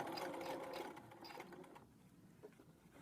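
A sewing machine stitches a pocket seam an eighth of an inch from the edge, a close, steady mechanical hum that fades off and gives way to softer handling noise.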